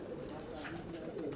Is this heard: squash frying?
no